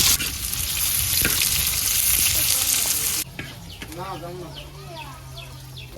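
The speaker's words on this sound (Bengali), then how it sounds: "তেলটা গরম হয়ে গেছে পেঁয়াজ আর রসুন দিয়ে দিলাম" Onion and garlic hit hot oil to temper dal in a village kitchen, giving a loud, dense sizzle for about three seconds before it drops to a quieter crackle with a voice talking over it.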